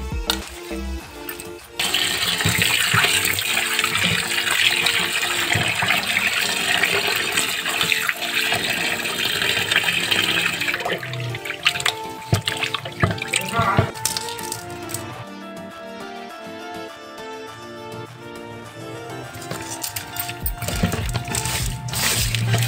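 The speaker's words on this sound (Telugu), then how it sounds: "బాగా ఉప్పు వేసి కొద్దిగా పసుపు వేసి శుభ్రంగా కడుక్కోవాలి." Meat washed by hand in water with salt and turmeric: close, continuous sloshing, swishing and splashing of water in a vessel, with occasional clinks, and no talking.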